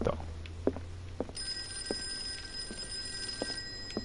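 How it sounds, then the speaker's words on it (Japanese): A telephone rings in a horror video game, its bell tone sounding in repeated bursts over a low ambient hum and faint clicks. "電話が鳴っていく。"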